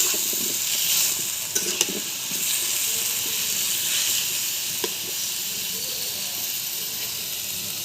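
Broiler chicken pieces frying in hot oil in a wok, giving a steady close sizzling hiss throughout with a few brief clicks, no talking.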